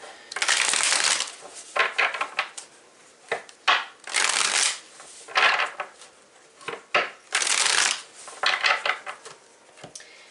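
A deck of tarot cards is shuffled by hand, giving bursts of crisp riffling and papery slapping that come in uneven rhythmic waves, close and clear with no talking.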